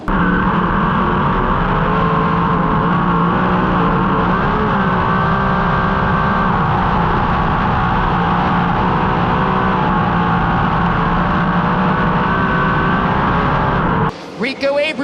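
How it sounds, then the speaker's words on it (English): Winged sprint race cars roar on the throttle at the Knoxville Nationals, a loud, steady, layered engine drone that holds for about fourteen seconds before cutting off abruptly, with an announcer talking over it. "all cars are out of the infield and back onto the racetrack on the throttle"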